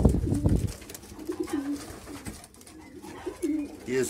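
Racing pigeons coo in repeated soft, low bursts, a few calls spread across the moment with a louder flutter of activity at the start, fairly close.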